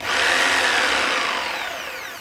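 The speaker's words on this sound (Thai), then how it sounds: "ถ้าเรากด ให้ เลื่อยทำงานที่ความเร็วสูงสุด" A Makita M4301 jigsaw runs at full speed, about 3,100 strokes per minute, a loud, continuous high-pitched buzzing whine that holds steady and eases off slightly toward the end.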